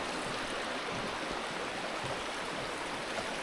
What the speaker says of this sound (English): This is a pretty sizable stream